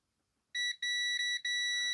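A multimeter continuity test on the fuses of a vintage Sanyo amplifier: a loud, steady electronic beep starts abruptly after a short silence, with a few brief dropouts before it sounds again.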